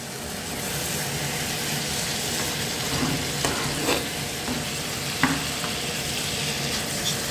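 Baby spinach being stir-fried in a hot pan while cooking a spicy Chinese shrimp dish, with a steady, loud sizzle and a few clinks and scrapes of stirring throughout, no talking.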